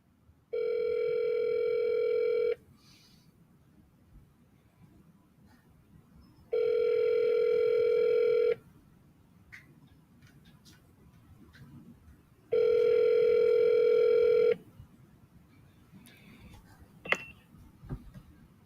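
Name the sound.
telephone tones after dialing an out-of-service number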